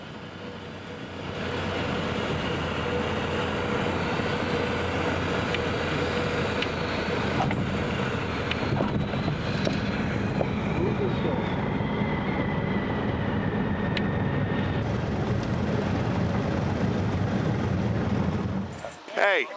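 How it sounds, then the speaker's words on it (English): A small airplane drones steadily on final approach and landing at Taunton Municipal Airport, its engine hum filling the cabin and easing off near the end, with voices talking over it. "We're making our final approach. We're going to swing around and we're going to land back at the Taunton Municipal Airport."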